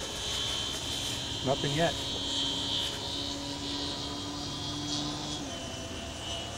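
An AMR Trainer 50 model airplane engine runs near full throttle, a steady high buzzing drone with a faint voice briefly heard over it.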